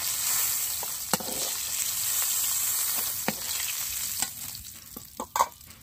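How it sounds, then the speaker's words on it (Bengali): Mackerel pieces frying in hot oil make a continuous close sizzle, broken by several sharp scrapes and clatters of a utensil in the pan toward the end. "তো বাদ বাকি মাছগুলো আমি ভেজে নেব।"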